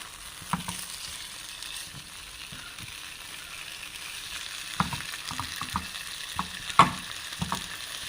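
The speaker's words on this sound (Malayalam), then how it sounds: "ഇനി ഇട്ട് ഒന്നുകൂടെ നമ്മൾ ഫ്രൈ ആക്കി എടുക്കണം" Whole pearl spot fish (karimeen) coated in masala fries in a pan, giving a steady close sizzle with scattered pops and crackles and a few sharper spatters toward the end.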